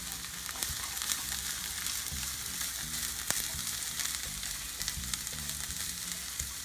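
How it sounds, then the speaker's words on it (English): Bean sprouts sizzle steadily in a hot stir-fry pan, a continuous close crackle with scattered light clicks and scrapes of stirring, no voices. "And just give it a stir."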